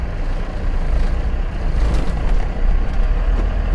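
Trucks rolling past at night in Montgomery, a steady low broadband road rumble with engine drone and faint hiss of tires, continuous and fairly loud with slight surges as vehicles go by.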